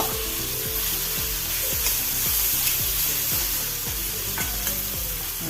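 Dried shark fish sizzles in hot coconut oil in a pan, a loud continuous frying hiss with regular scraping strokes of stirring running throughout.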